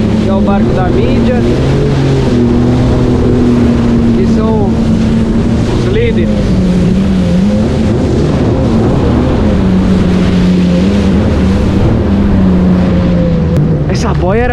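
A media motorboat runs at a sailing regatta start with more than 60 boats, its engine droning steadily and loudly under heavy wind buffeting on the microphone, with an occasional voice nearby.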